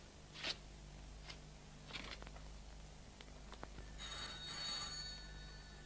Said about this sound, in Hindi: माँ, पिताजी का टेलीफोन है।